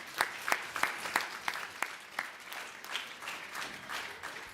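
An inauguration audience applauds after a speech by the Commissioner, a steady wash of many hands clapping with a few sharper, louder claps standing out, moderately distant and without talk.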